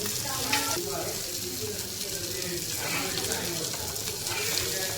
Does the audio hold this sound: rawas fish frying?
yes